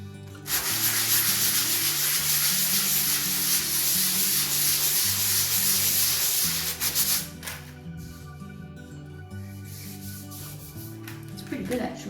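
Drywall filler on plasterboard is sanded by hand with sandpaper in a continuous close scratchy rub for several seconds, stopping partway. A low musical tone runs underneath throughout.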